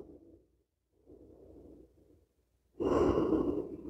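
Breathing during a yoga lying-down leg lift: soft, faint breaths early on, then a louder, sustained rushing exhale close to the microphone near the end, with no talk.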